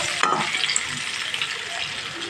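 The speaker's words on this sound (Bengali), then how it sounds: "এইভাবে আলুগুলো ভেজে নিতে হবে" Potato pieces frying in oil in a pan over medium flame, a steady close sizzle running throughout with a brief stirring clatter near the start.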